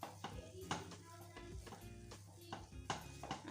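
Semolina halwa is stirred in ghee in a pan, with soft scraping and gentle sizzling strokes in an irregular rhythm, quiet beneath steady background music.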